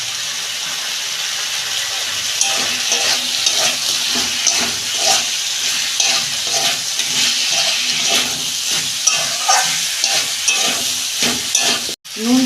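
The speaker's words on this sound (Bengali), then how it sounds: "দু মিনিট কষে নেব।" Mixed vegetables and fish-curry masala with turmeric fry in a pan with a continuous, close sizzle and hiss. Regular stirring scrapes sound throughout, then break off abruptly just before the end.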